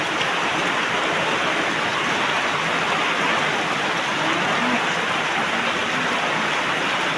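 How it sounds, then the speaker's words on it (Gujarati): Heavy rain pours down steadily over a farm with bajra crops, a dense unbroken roar of falling water, loud and close with no voices. "ડબ્બલ વરસાદ ચાલુ થયો છે"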